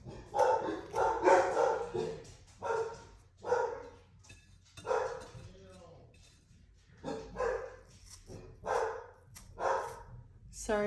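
Dogs bark in the background during a home watercolor painting session, with a steady run of sharp, repeated barks about once a second, moderately loud and continuing through the whole stretch.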